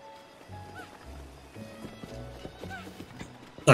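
Horse hooves in the Zelda Breath of the Wild video game: a rhythmic clip-clop of a galloping horse, fairly quiet and close, with a brief snort or whinny and a sharp louder sound at the very end.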